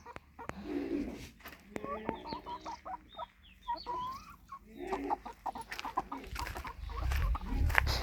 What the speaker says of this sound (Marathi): शेळ्या कोंबड्या सकाळपासून गव्हावरच आहे त्या